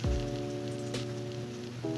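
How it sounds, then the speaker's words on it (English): Heavy rain pours steadily outdoors on a sick day at home, a continuous hiss running throughout with a low tonal hum layered underneath. "It's pouring out raining outside."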